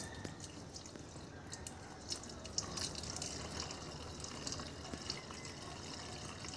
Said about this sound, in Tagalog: Dyan pala ilagay yung tubig dyan sa may butas.